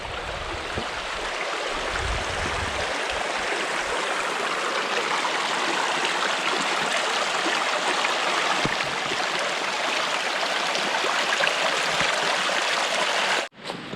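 A flowing stream on the Appalachian Trail rushes steadily and close by, a continuous bright wash of water with no voices, ending in a brief bump.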